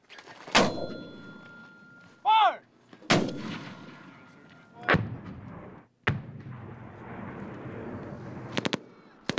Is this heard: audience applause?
no